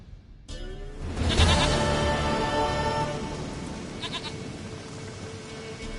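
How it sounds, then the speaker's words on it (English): A goat in The Witcher 3 lets out a loud, drawn-out bleat close by, with a softer trailing call afterward over a steady hiss like rain, and no talking. "Goat of mine, dearest, sweetest goat."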